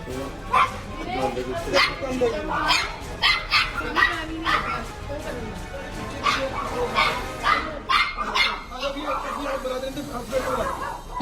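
Dogs bark and yip repeatedly amid excited human voices and shouting, fairly close, with some whimpering between bursts.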